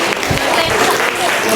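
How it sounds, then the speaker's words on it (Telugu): Audience applause for tambola winners at a community picnic, a short dense burst of clapping that is loud and continuous throughout. "ఒకసారి అందరూ కూడా గట్టిగా చప్పట్లండి"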